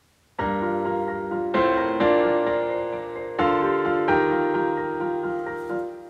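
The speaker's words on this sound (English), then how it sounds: "And so with the main piano, that kind of melody sounds like this." Piano chords ring out one after another in a slow, sustained melody, each struck note decaying gently, played alone and clearly.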